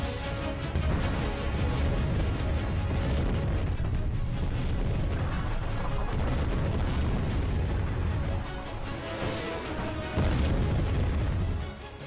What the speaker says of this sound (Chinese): 10万日军以飞机大炮向中国守军的核心阵地和市区狂轰乱炸